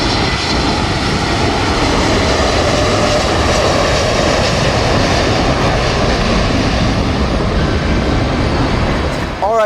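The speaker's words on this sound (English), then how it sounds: "here's a Spirit A321neo coming from Atlanta" A Spirit Airbus A321neo jet arriving from Atlanta roars steadily and loudly at close range near Fort Lauderdale airport, its engine noise dense and continuous throughout, with no pauses or voices.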